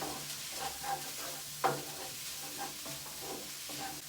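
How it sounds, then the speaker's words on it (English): Singapore fried rice with king prawns being stirred in a hot pan, a steady sizzle with scraping stir strokes and one sharper clank partway through, close and continuous. "Just give it a quick stir."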